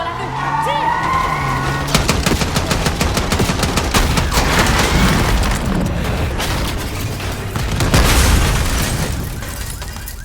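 Call of Duty Black Ops 6 combat brings dense automatic gunfire with booming explosions, sustained and loud throughout. Game characters speak French over the battle at the start.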